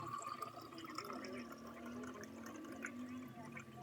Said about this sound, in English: The second step is to fill the other glass with the same amount of water.